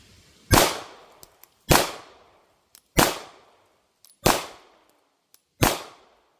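Five rifle shots fired at a target during a scope drop test, each a sharp, loud crack with a short decaying tail, spaced about a second apart, no talking.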